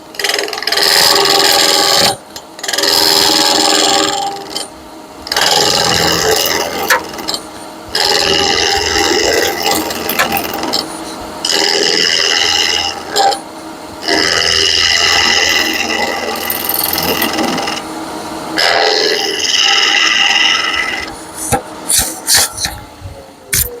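Wood lathe roughing out a spaghetti server, a gouge cutting from the center outward in loud, sustained rasping bursts separated by short pauses, with a low motor hum beneath.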